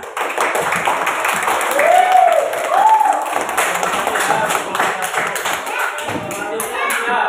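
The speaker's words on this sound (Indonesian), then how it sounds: "Kasih tepuk tangan" A classroom of students claps their hands in a brisk, uneven burst of close claps and taps, with voices calling out briefly partway through.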